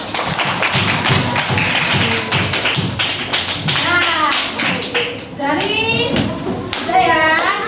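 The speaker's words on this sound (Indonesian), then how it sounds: "Oke, kita beri tepuk tangan." Classroom applause from a group of schoolchildren, loud and close, with rapid tapping claps and excited children's voices chattering throughout.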